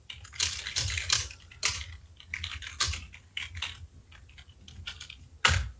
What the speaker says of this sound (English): I'm just going to type that out.